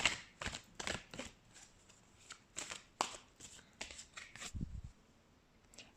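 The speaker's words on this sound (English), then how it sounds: "Let's pull some more cards." Tarot cards being shuffled and pulled from the deck, a series of quiet, close riffling and flicking bursts separated by short pauses.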